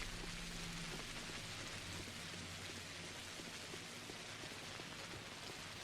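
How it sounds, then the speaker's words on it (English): Steady rain falling in the video game Pathologic, a constant soft patter, even and unbroken, with a faint low rumble underneath and no voices. "Doesn't look like it, but it's raining."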